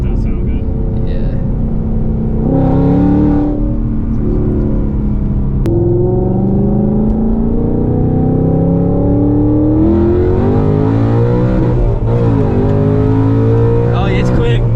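A Whipple supercharged Ford Mustang Dark Horse with a manual gearbox accelerates hard through gears, its exhaust and supercharger whine climbing in pitch, dropping at shifts and climbing again, loud and close from the cabin with voices talking over it.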